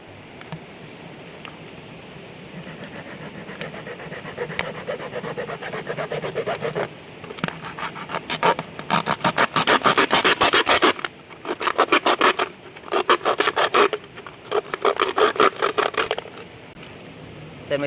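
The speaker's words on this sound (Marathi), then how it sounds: "सगळ्यात पहिले आधी बॉटल कापूया आणि याचा ट्रॅप बनवून घेऊया" Scraping, rasping cuts into a half-litre plastic bottle being made into a fish trap, starting softly and building into loud bursts of rapid sawing strokes separated by short pauses, close up with no talking.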